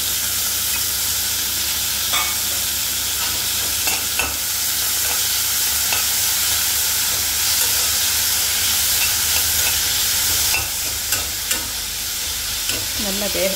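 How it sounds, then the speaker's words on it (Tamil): A continuous loud sizzle of chopped garlic frying in a pan for milagu kulambu, with occasional scrapes and taps of a spoon stirring. "பூண்டு நறுக்கி வச்சிருக்கேன் அதையும் போட போறேன்."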